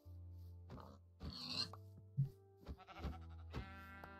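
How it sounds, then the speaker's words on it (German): Sheep in Minecraft bleat in several short, separate calls spread over a few seconds, fairly close and moderately loud, with grunt-like animal noises in between and no talk. "die Schafe sind jetzt wirklich eine Plage"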